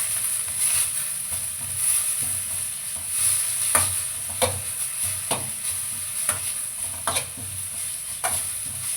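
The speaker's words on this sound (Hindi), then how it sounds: "तो देखो मेरा ये प्याज भी भुन गई।" Onions frying in a spoonful of oil on a home tawa, with a steady close sizzle and periodic scraping stirs of a spatula across the pan.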